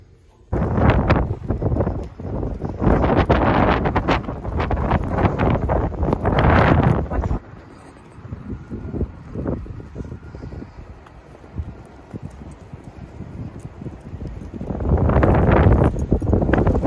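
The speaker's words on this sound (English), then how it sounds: "it was just so windy that we just went back in" Strong wind buffets the microphone in loud gusts, easing to a lower roar midway before surging again near the end.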